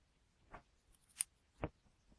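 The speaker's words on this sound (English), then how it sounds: "Put your scissors on top, just giving him a haircut." Three brief, crisp scissor snips trimming yarn of turkey-stitch embroidery, spaced apart, each a short sharp cut, close up in an otherwise quiet room.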